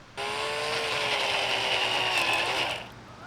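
A cordless drill with a dying battery whines steadily for under three seconds while drilling, close and fairly loud, its pitch sagging slightly before it winds down and stops.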